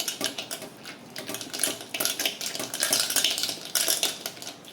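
A spoon beats ghee with ice into a cream for ghevar batter, a fast steady clatter of metal against a bowl, close and continuous.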